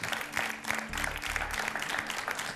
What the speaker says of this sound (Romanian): Aplauze pentru Cornelia!